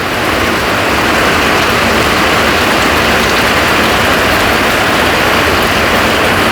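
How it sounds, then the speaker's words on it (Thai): Heavy early-morning rain pours down in a dense, steady hiss that stays loud and unbroken throughout, with a low rumbling undertone and no voices. "โอ้ฝนตกเลยน้องเอ้ย"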